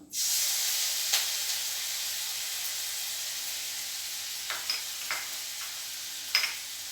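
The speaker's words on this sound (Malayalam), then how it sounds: "ചട്ടിയിൽ കുറച്ച് എണ്ണ ഒഴിച്ചു കൊടുക്കണം. അതിനുശേഷം വെളുത്തുള്ളിയും ഇഞ്ചിയും ചതച്ചെടുത്തത് ഇട്ട് കൊടുക്കണം." Crushed garlic and ginger hit hot oil in a pan, bursting into a loud sizzle that settles into a dense, steady frying hiss with occasional sharp pops near the end.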